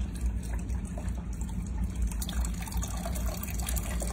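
Water pours steadily from a two-tier barrel waterfall fountain with a hand pump, a continuous close trickle and splash without pauses or voices.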